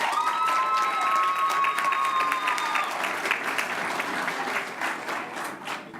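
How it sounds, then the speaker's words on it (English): Audience at a school board meeting breaks into steady, sustained applause, with a few whistles and cheers over the first half, clapping continuing loudly throughout. "let's have a round of applause for Isaiah Delgado."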